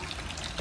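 Borjomi medicinal mineral spring water flows in a brief, steady splashing stream, close and fairly quiet, with no talk.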